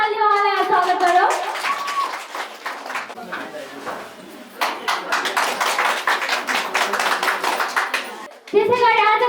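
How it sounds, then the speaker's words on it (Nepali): Enthusiastic applause from an audience welcoming a choreographer at a dance championship audition in Udayapur, a dense run of clapping lasting several seconds, with a voice speaking briefly before and after. "जोरदार तालीले उहाँलाई स्वागत गरौँ।"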